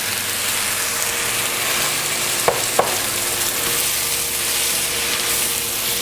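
Tomatoes fry with egg in a pan for Nepali-style egg thukpa. A steady, even sizzle runs throughout, with two sharp clicks close together midway.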